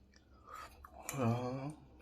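Air-fried cashew nuts are chewed close to the mic, a brief soft crunching over about two seconds, quiet and set apart from any talk.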